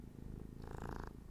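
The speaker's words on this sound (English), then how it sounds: "Can you purr?" A cat purrs close up, a low, rhythmic rumbling vibration that holds steady and faint throughout the short stretch, with no talking.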